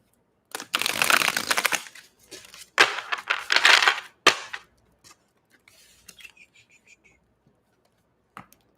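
A deck of tarot cards is shuffled in two or three crisp riffling bursts close to the mic, each followed by the cards being tapped and squared, with no speech.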